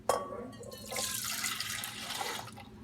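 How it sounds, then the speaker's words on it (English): Liquid is poured into a mixing bowl in a kitchen, a soft continuous splashing trickle that begins after a short clink and stays fairly quiet and close throughout. "So I'm going to pour that into my mixing bowl."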